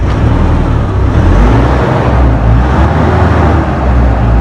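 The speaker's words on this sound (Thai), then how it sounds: "ดูเหมือนก็จะเร่งได้นะครับ เร่งได้สี่พันรอบนะครับ" Engine of a Nissan NV350 van revving up to about 4000 rpm, a steady loud low-pitched drone that holds throughout without talk.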